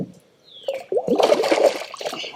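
A fish thrashes in the water beside a kayak, a short burst of close splashing and splattering after a quiet moment, fading into drips and trickles.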